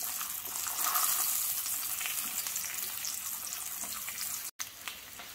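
Aubergines fry in a pan with a steady crackling sizzle, fairly quiet and close, broken by a brief silent gap near the end.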